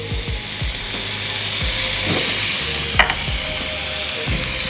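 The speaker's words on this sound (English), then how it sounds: "I'm gonna just give this a stir first" Beans, corn and spinach are stirred in a frying pan for a Southwestern eggroll filling, giving a steady sizzle with repeated scraping strokes of the spoon, including one sharper clack near the end, and no talking.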